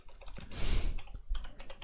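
Rapid, close-up typing on a computer keyboard while writing Minecraft plugin command code, a dense run of clicking keystrokes with brief pauses and no talk.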